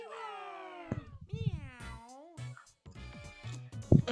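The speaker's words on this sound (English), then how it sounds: "Meow!" A cartoonish cat meow from the Super Mario 3D World video game, several drawn-out, bending meow calls in a row, clear and close, with a brief thump near the end.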